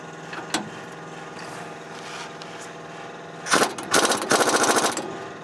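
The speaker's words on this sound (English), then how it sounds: "we're gonna try an air impact and see if that's any more persuasive" An air impact wrench works a rear shock absorber bolt on a Nissan Titan, with a short hammering rattle and then longer bursts of rapid clattering over a steady background hum.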